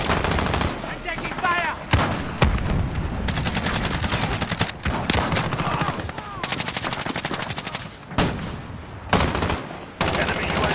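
CR-56 Amax assault rifle fire in Call of Duty: Modern Warfare multiplayer deathmatch: dense, loud automatic bursts crackle almost nonstop, broken by brief pauses and single sharp shots, with game voice callouts mixed in.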